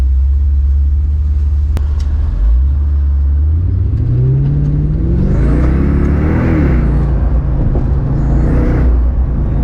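A Mercedes-AMG CLK DTM convertible with its top down, driven and accelerating: a loud, deep engine rumble climbs steadily in pitch as it revs, under heavy open-air wind noise, with no talking.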